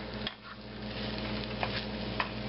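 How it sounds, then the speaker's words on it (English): Eggs and other breakfast ingredients scrambled and stirred in a hot frying pan at a street food stall, with steady close sizzling and a few scraping stirs of a utensil against the pan. "Just toss it in and scramble it in the pan."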